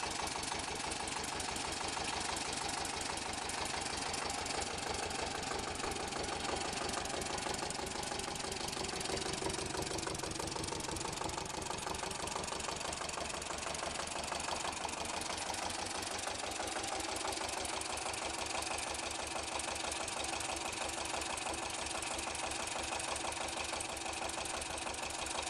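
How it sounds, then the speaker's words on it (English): An early 20th-century Czech Slavia 27 HP stationary engine runs steadily with a dense, fast, even mechanical chugging that stays loud and unbroken throughout. "The Slavia 27 HP was a robust internal combustion engine produced in the early 20th century by the renowned Czech"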